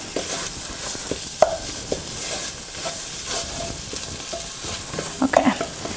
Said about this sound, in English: So saute it for a minute till everything gets mixed in